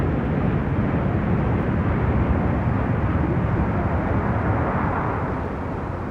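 A Royal Navy Buccaneer jet roars steadily overhead at the 1968 Farnborough air show, a loud, broad rushing engine noise that holds for several seconds before easing slightly at the end.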